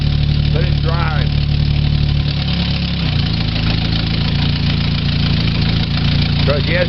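A 2000 Chevy Tracker with a 2.0 engine idles steadily in drive after a timing chain replacement, a constant close rumble with a brief shift in tone midway and faint speech in the background.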